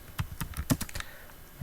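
Quick, close keystrokes patter on a computer keyboard while code is typed, an irregular run of crisp clicks with no voice.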